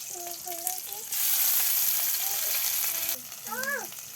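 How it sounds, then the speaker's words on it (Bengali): Chopped onion, green chili and chili paste fry in oil for a pointed gourd and potato bhaji. A bright, dense sizzle swells and fades, broken by stirring scrapes, while a melodic tonal sound runs over it. "পটল আলুর ভাজি করার জন্য তেল দিয়ে দিলাম পেঁয়াজ কুচি কাঁচামরিচ কুচি আর মরিচ বাটা সব রকমের মশলা বাটা"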